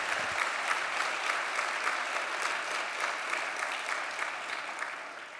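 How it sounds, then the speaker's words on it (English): Steady applause from diners at a civil liberties organization's annual dinner, a full roomful of clapping at moderate distance that holds evenly, then slowly thins toward the end. "Let's give her a round of applause."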